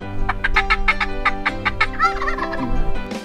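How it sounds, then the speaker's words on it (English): An old Merriam wild turkey gobbler in the high desert of New Mexico gobbles loudly and close, a rapid rattling burst followed by a second warbling gobble, with no voices. "Getting an old big white gobbler."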